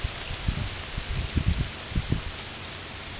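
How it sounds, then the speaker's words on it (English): Heavy rain falls outdoors in a backyard by a creek as a steady hiss, with soft irregular thumps of drops landing nearby. "it's starting to rain a ton"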